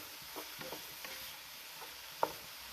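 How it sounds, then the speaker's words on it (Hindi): Vegetables sautéing in oil for fried rice, a steady quiet sizzle with a few light stirring clicks and scrapes of a spatula, close up. "बस ऑयल में इसको सॉटे करना है 3 to 4 मिनट"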